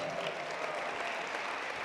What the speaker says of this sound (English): Let's give all our bidders a big round of applause.